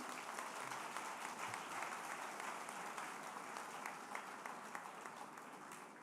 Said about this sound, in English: Our clap offering is not enough. Can we do it bigger?